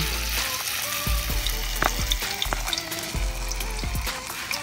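Flour-coated leftover dishes sizzle and crackle steadily as they fry in hot oil, with occasional clinks and scrapes of a utensil stirring the pan up close.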